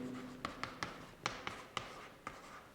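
Chalk or marker tapping and scraping on a board while a maths problem is worked out, about eight short, sharp strokes at an uneven pace, close and fairly quiet.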